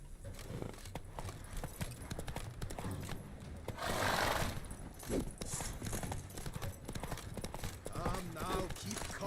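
A horse gallops with rhythmic hoofbeats in The Witcher 3 video game, and a whinny cuts through around the middle. Voices and game sounds run underneath.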